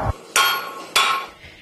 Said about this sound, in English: I just like hitting stuff with a hammer.